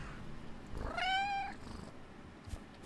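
A cat meows once in the farm survival horror game We Harvest Shadows, a single clear drawn-out meow rising over a quiet, muffled ambient background.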